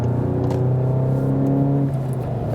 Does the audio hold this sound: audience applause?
no